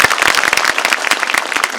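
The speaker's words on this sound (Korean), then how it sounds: "오늘 수고해주신 먼저 조정철 편집장님께 박수 한번 부탁드립니다" An audience at a film Q&A screening for the movie Harbin applauds the editor-in-chief: a steady, dense burst of many hands clapping at close range, with no talk over it.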